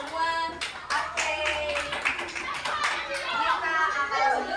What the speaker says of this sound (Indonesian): Sekarang kita beri tepuk tangan untuk kita semua.